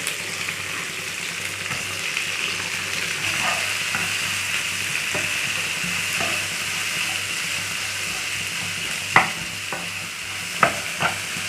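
Onions sauté in a pan for butter mushroom masala, a steady close sizzle with occasional stirring scrapes and a few sharp clinks near the end, with no talk.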